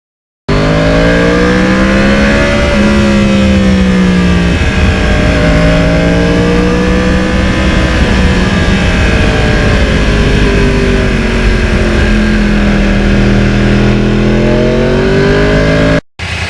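Engine of a 2009 Yamaha R1 crossplane sport motorcycle while riding on an open road, a loud continuous drone that rises and falls in pitch with throttle and shifts, steady throughout with no talking.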